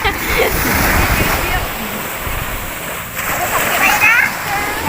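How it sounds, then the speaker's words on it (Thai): Sea waves at Pattaya beach surging and splashing over a person, loud close wash of surf rising and falling, with voices talking and calling over the water. "โอ้ดูพี่กัสโดนน้ำซัดอ่ะ"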